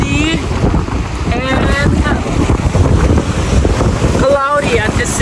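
Strong wind on Boracay beach buffets the microphone in a steady roar, with surf washing underneath, shouts and whoops cutting through, and a voice speaking briefly.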